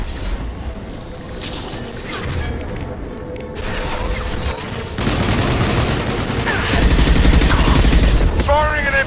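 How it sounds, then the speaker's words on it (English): Impact-shot gunfire in the Mass Effect video game, a loud dense fusillade of rapid shots and crashing booms that builds and intensifies toward the end, with a faint voice underneath. "Firing an impact shot."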